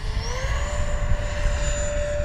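An E-flite F-4 Phantom II 80mm RC jet flies over a grass runway, its steady high-pitched fan whine rising slightly as it passes, loud and continuous over a rumble of wind.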